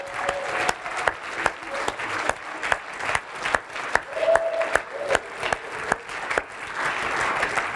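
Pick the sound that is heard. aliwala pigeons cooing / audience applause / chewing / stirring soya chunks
audience applause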